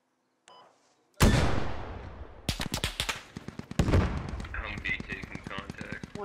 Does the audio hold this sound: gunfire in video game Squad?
yes